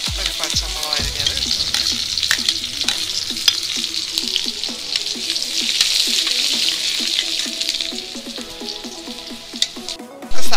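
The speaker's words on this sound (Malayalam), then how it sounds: "ഇഞ്ചി വെളുത്തുള്ളി അരിഞ്ഞെടുത്ത് കൊടുക്കാം. ഒരു പച്ചമുളക് അരിഞ്ഞത്" Chopped ginger, garlic and green chilli frying in hot coconut oil, a loud, steady crackling sizzle that holds throughout, with faint tonal sounds in the background.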